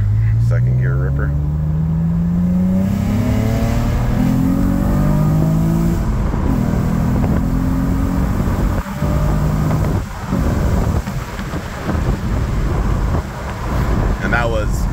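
An Acura TL-S with a six-speed manual pulls hard in second gear, its engine note rising steadily and loud from close by before backing off into road and tire noise.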